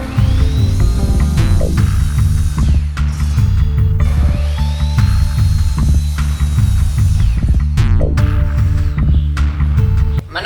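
Power saw cutting wooden pieces for a dirt bike stand, a loud continuous buzzing rumble with repeated rising and falling whines as the blade bites into and leaves the workpiece, close by.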